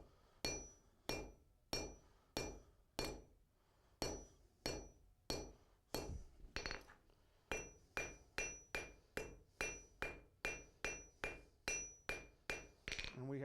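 A blacksmith's hammer strikes a hot iron bar laid over a chisel to cut a nail, ringing out about two dozen sharp, evenly spaced metallic blows with a brief pause midway, loud and close, with no talking.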